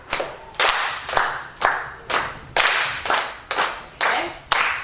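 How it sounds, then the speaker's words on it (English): A group in an improvisation class claps together in steady 4/4 time, about eight evenly spaced bursts of crisp unison claps, each ringing briefly in the room, with a stronger clap marking the first beat. "Let's all just clap together."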